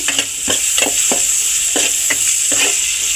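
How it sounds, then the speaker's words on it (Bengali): Green chillies and onions fry in hot oil with a steady, close sizzle, while a spatula scrapes and stirs the pan in regular strokes about every half second. "ডাল ভুনার জন্য কাঁচামরিচ আর পেঁয়াজ তেলে ভেজে নিচ্ছি।"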